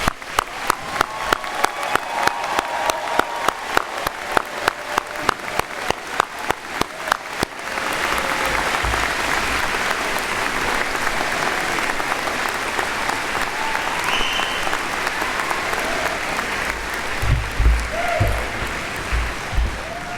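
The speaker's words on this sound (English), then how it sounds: "join me in a round of applause for our graduates" Sustained applause from a large audience for graduates at a university convocation, starting with distinct rhythmic clapping that swells into a dense, continuous wash of hands filling the hall.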